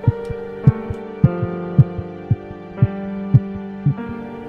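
A heartbeat sound effect thumps out in evenly spaced paired beats, eight or so in quick succession, loud and close over a low sustained hum, with no voices.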